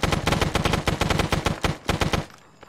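Rapid automatic gunfire in Arma 3's Vietnam setting rattles close and loud in a sustained burst of evenly spaced shots, then cuts off abruptly, with no talk over it.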